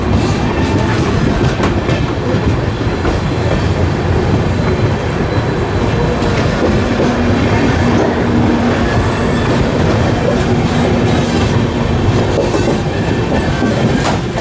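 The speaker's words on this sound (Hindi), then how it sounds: "ये है महाराष्ट्र एक्सप्रेस, कोल्हापुर से गोंदिया को चलने वाली महाराष्ट्र एक्सप्रेस, और ये अपनी जर्नी ख़त्म कर रही है आज गोंदिया जंक्शन पर आकर।" The Maharashtra Express from Kolhapur rolls into Gondia Junction with a loud, steady rumble of wheels on rails, rhythmic clatter over the joints and a thin squeal of wheels near the middle.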